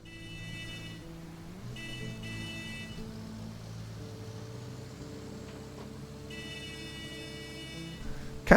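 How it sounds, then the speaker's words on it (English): Truck horn blaring in the video game RoadCraft, sustained bright tonal honks sounding in several long bursts over a low engine drone, muffled and slightly hollow. "Kind of still feels like I'm in a tunnel every time I honk a horn in this game."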